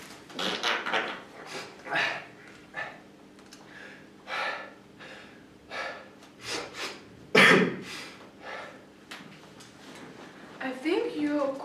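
Someone coughs in several harsh bursts with gasps and throat clearing, close and loud, mixed with spoken words.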